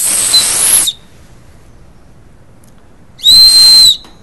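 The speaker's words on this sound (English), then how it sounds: "one of these lanyard type whistles here" Two loud, shrill blasts from a lanyard whistle, each under a second long, separated by a silent gap of about two seconds.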